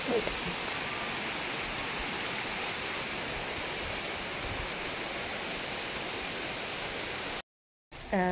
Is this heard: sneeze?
no